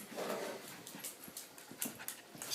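A dog pants rapidly and whimpers close by, a steady run of short breathy puffs with a few higher whines across a couple of seconds, with no talk.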